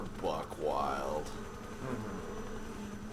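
Bees buzz in a video game: a loud, close swarm drone with swooping rises and falls in pitch that fades to a lower, steadier hum.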